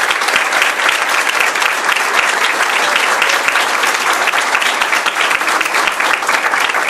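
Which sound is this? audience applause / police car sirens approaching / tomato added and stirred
audience applause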